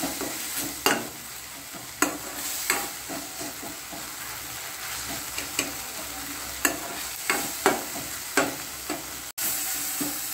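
Chopped capsicum for a Maharashtrian shimla mirchi bhaji sautéing in hot oil over a raised flame, a steady close sizzle broken by repeated spatula scrapes and clinks against the pan, with no voices.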